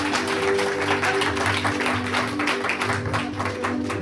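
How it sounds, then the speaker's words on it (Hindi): A congregation claps together during a Sunday worship service, a steady, dense patter of hands held over sustained music tones at moderate volume. "ताली बजाएंगे प्रभु के लिए।"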